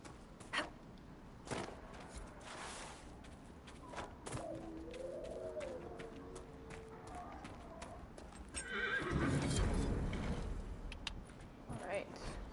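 A chestnut Ferelden Forder horse in the fantasy game Dragon Age: Inquisition, with scattered hoof clops, a clear whinny in the middle and a louder snort or stomp near the end; faint bird sounds linger in the background.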